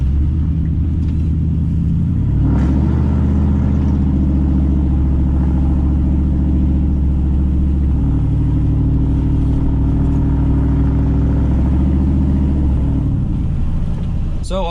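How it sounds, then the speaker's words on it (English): Car exhaust rumbles steadily while the vehicle drives, a loud low drone with gear-like shifts in pitch as it accelerates and settles. "Let's hear some exhaust though real quick."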